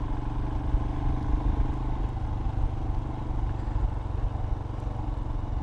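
A 2020 Royal Enfield Himalayan motorcycle rides off-road with a steady, low, thrumming single-cylinder drone and a faint clatter. The sound stays at an even level throughout, with no speech.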